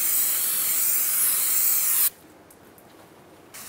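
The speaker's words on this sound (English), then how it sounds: "put the brake parts cleaner on this side" Brake parts cleaner sprays onto a 2002-2005 Chevrolet Trailblazer brake rotor, one loud, close, continuous hiss lasting about two seconds, then a brief softer spurt after a pause.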